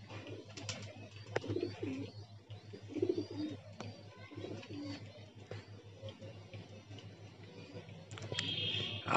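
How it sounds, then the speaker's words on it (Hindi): A startled pigeon coos in soft, repeated low phrases at close range, with scattered clicks and light rustling around it and some faint background sounds. "देखो अभी घबराया हुआ है वो कबूतर"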